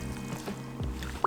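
Kayak paddle dipping and pulling through calm water on a sunny day, soft sloshing and a light splash near the end, brief and close.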